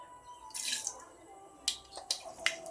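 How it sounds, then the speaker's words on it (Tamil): Mustard seeds and urad dal crackle in hot oil for a Tamil Sankranti kuzhambu tempering, giving a few scattered, fairly close pops and sizzles over a quiet background. "எண்ணெயெல்லாம் காஞ்சிருச்சு கடுகுளுத்தம் பருப்பு போட்டுக்கலாம்"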